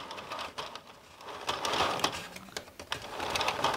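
A Prym midi knitting mill is cranked by hand, giving a steady ratcheting clatter of small plastic clicks that is close and continuous, with no voices.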